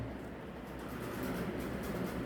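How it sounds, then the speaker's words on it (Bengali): A train sound effect in a horror story, a faint, steady low rumble of rolling carriages that swells slightly toward the end, with no voices. "ট্রেনের শব্দ শোনা যাচ্ছে"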